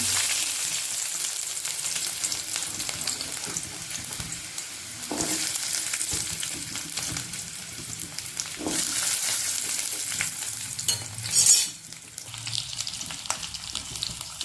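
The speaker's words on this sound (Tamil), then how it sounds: "இப்போ நல்லா இதை எண்ணெயில் லைட்டாக வதக்கிக்கலாம்" Garlic cloves sautéing lightly in oil in a pan for garlic chutney, a continuous close sizzle with intermittent stirring scrapes and a brief louder surge partway through.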